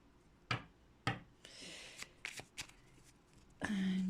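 Tarot cards being handled and laid out, with several crisp close snaps and flicks of card stock and soft sliding shuffles between them, fairly quiet, ending in a brief burst of louder handling.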